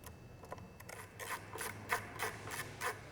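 Screws come out of the back cover of a KKT L-frame film carrier, making a quiet, close series of rhythmic ratcheting clicks from a hand driver, about eight quick turns in a row.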